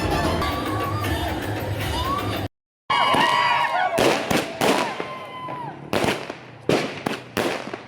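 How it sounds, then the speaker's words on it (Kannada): Firecrackers go off at a college DJ night, a dense crackling barrage followed by a run of sharp separate bangs, with a crowd cheering and shouting underneath. "ಪಟಾಕಿ ಒಂದಿಗೆ ಮುಗಿಸಿದ್ದಾರೆ."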